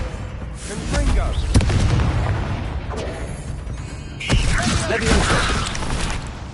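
Confringo blasting spells cast in Hogwarts Legacy, with sharp booming impacts around the middle and again near the end over a busy layer of game sound effects.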